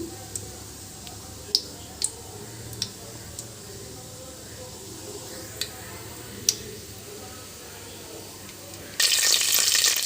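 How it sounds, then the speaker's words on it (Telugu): Whole peppercorns dropped one by one into hot oil for khichdi, giving sharp scattered pops and ticks over a soft steady sizzle, with a brief louder hiss near the end. "ఇది మిరియాలు ఒక్కొక్కటి వేసేస్తున్నాను చూడండి కోస్త వేగనిద్దాము"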